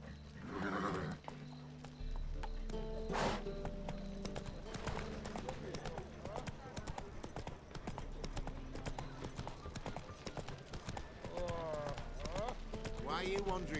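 A horse clip-clops at a gallop through a town in The Witcher 3, steady hoofbeats running throughout with a brief whinny-like sound early, while voices talk and other ambient game sounds mix in.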